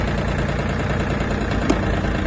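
A Mitsubishi MT-20 Japanese mini tractor engine idling, a steady close chugging drone with no pauses, loud and alone throughout.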